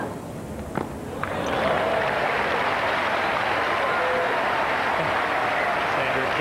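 Tennis crowd at the 1994 US Open applauding a winner: a single thwack, then steady applause that swells and holds, moderately near and loud, under a commentator's voice.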